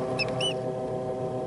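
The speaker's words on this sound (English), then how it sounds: "you can hear it chirping in there" A turkey chick inside its unhatched egg gives a few thin, high chirps close by, over a constant humming drone, probably from an incubator.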